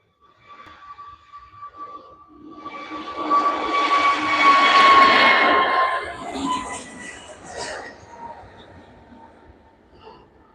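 An aircraft passes at Manchester Airport, its jet engines swelling from a distant whine to a loud roar and then fading, with tonal whistles over the rumble.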